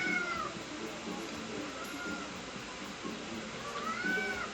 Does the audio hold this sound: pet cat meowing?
yes